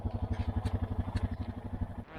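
Honda Foreman Rancher Rubicon ATV engine with the O2 sensor deleted, running steadily while being ridden before fully warming up, a loud close-up rhythmic low thrum with clattering pulses and no talk.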